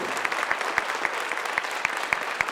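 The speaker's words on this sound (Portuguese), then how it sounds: "Eu vou pedir uma salva de palmas para essa menina. Pode aplaudir." A room of attendees at a Partido Novo political café event in Uberlândia claps steadily for a young woman, dense even applause with sharp individual claps standing out, no talk over it.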